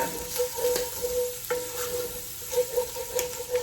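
Bacon sizzles and crackles in olive oil in a pan, with soft stirring and scraping sounds over the steady frying noise.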